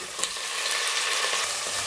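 Chicken added to hot oil with garlic and ginger makes a loud, close, continuous frying sizzle with some stirring. There is no talking.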